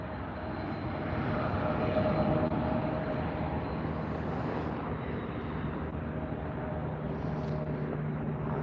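A plane arriving to land at LAX gives off a steady, loud jet roar that swells early, then holds as a constant broadband rumble overhead with no talk over it.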